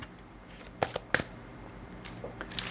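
Tarot cards shuffled for a reading: a few sharp riffling snaps and soft card rustles, close and distinct against quiet room tone, with no talking.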